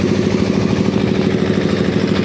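A fishing trawler's diesel engine at Paradeep fishing harbour, a loud, close, steady low throbbing drone with a regular pulsing rhythm and no pauses.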